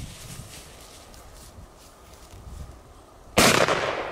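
A cheap firecracker costing about 2 PLN goes off outdoors with one sudden loud, broad bang after several seconds of quiet background, followed by a short decaying rumble.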